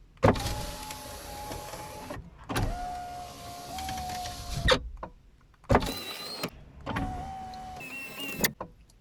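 Electric power window on a Fiat Fiorino, Peugeot Bipper or Citroën Nemo runs up and down four times after a new switch is fitted, each whining motor run lasting a couple of seconds and ending in a thump.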